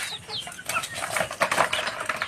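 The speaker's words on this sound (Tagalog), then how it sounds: "magpapakain naman tayo ng mga manok" A flock of chickens clucks and chatters in a busy, overlapping mix during an afternoon feeding in a rural yard, with soft scratching and occasional wing flutters, fairly close and no one speaking.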